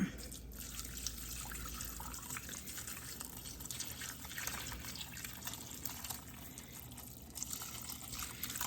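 Soup broth with garlic, celery and fennel pours through a strainer in a home kitchen, a steady close trickle and splash of liquid that runs for several seconds without pause.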